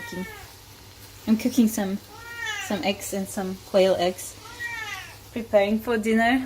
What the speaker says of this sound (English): So I'm sorry about the cats.